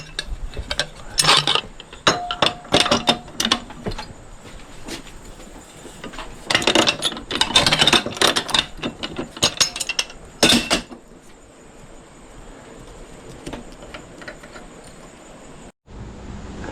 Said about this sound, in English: Let's get the pipe wrench out.